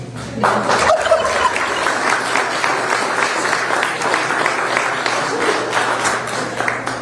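Turkeys gobbling at a political event, a run of raucous calls over crowd noise and scattered applause, fairly close and steady throughout.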